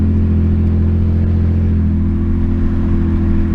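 Mercedes W205 car engine with its remote-controlled exhaust valve open, a loud, steady low drone and rumble heard from inside the cabin while driving, holding constant with no talk.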